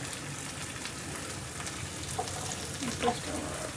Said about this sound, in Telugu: ఇలా ఒక నిమిషం పాటు ఫ్రై చేసుకుంటే చక్కగా మన మసాలాలన్నీ ఎగ్గు ముక్కలకి పట్టేసి పర్ఫెక్ట్గా వస్తుందండి